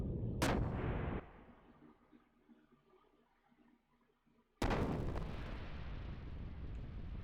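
Heavy warship gun blasts in the video game Xenogears, one booming shot that fades into a low rumble, then a second loud blast with a long sustained roar.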